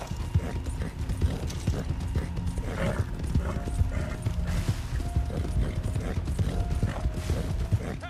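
Horse hooves clip-clopping at a steady gallop in the online western game Red Dead Online, continuous and fairly close, with faint creaks and game ambience beneath.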